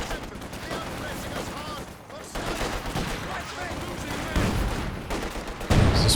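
An artillery barrage rumbles through a Company of Heroes 2 match, with dense, overlapping explosions and gunfire forming a continuous battle din that swells toward the end, over game effects.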